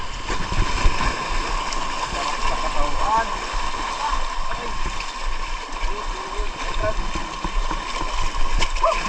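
Sea waves washing around a small boat at a fishing site off Bicol, a constant rushing and splashing wash with uneven surges, near and loud, while people talk over it now and then.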